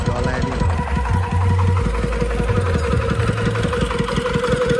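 The engine that drives a Ferris wheel ride at a night fair chugs loudly with a steady, rhythmic knocking idle. A voice talks over it.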